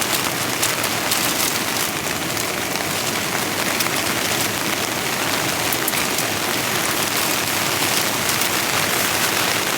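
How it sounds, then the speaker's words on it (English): Heavy rain drums steadily on a tent in a wind storm, a dense, unbroken wash of close patter with no pauses and no voices. "that rain's really picking up out there, man"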